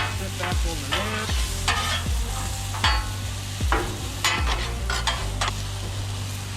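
Wild game burger patties and onion sizzling on a flat-top griddle: a constant loud sizzle with repeated metallic spatula scrapes and smashes at irregular intervals, close up, with no talking.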